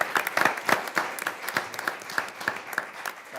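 A modest group claps at a Board of Education meeting, with distinct, fairly regular hand claps close by that rise, then thin out and fade toward the end, and no speech over them.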